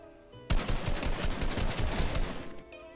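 Rapid automatic gunfire in Fortnite Battle Royale aimed at practice dummies: a dense, loud burst of shots starting abruptly after a moment of quiet and running for about two seconds before cutting off.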